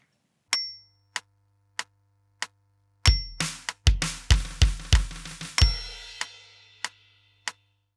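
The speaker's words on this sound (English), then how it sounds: "there's a bar where we play a double stroke roll on the snare while playing three, the and of three, and four on the bass." A metronome clicks steadily while a drum kit enters mid-bar with a rapid snare double-stroke roll and punchy bass drum hits from a chorus groove, followed by a crash ringing out and the clicks continuing alone.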